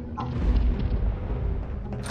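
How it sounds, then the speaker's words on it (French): Cannon fire from boats in Counter-Strike: Source, a dense rumbling boom that rolls on for about two seconds, loud and heavy with no voices over it. "il y a combien de bateaux qui tirent là-haut là?"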